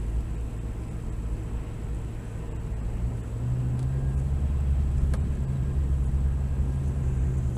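Steady parkway traffic rumbles at a moderate distance, a continuous low drone of passing vehicles with no voices.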